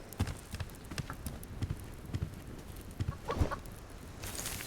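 A chicken in the video game Subsistence clucks in short, soft, repeated bursts, close by and unhurried, over a faint background with scattered small clicks.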